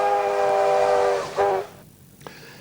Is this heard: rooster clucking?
no